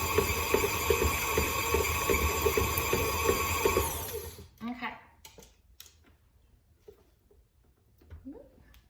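Electric mixer beating a block of cream cheese into frosting, a steady close whir for about four seconds that stops abruptly, followed by a few faint clicks and brief quiet handling sounds.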